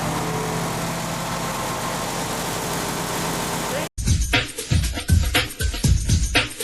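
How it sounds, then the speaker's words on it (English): Doosan engine with a DGC 2007 electronic governor ticking over at steady idle, a continuous mid-low drone that cuts off abruptly, followed by louder irregular knocking sounds. "After engine startup, it's necessary to adjust the idle volume again."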